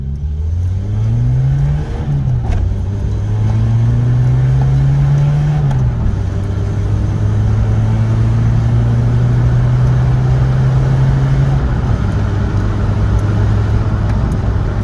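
A warm car engine revs steadily as the accelerator pedal is pressed to the floor, a loud, sustained drone that rises, holds and dips in pitch several times over about fifteen seconds, with no talk.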